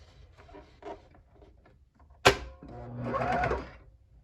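A sewing machine binds a garment neckline in one short burst of rapid stitching after a sharp click, heard close up following a stretch of soft handling noises.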